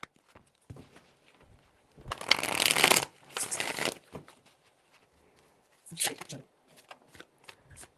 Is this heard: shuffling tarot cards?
yes